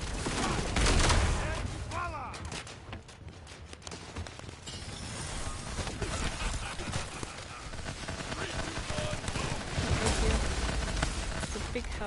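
Rapid gunfire from the video game The First Descendant, a dense, continuous clatter of shots mixed with game effects, with a player talking over it.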